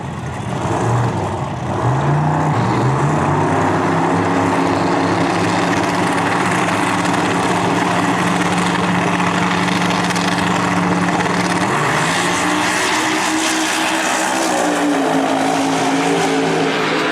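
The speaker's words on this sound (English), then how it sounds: "Twin turbo Mustang." A twin-turbo Mustang and a Corvette drag racing at the Rocky Mountain Nationals, their engines roaring loud and sustained as they rev and pull through the run, with the pitch stepping up midway.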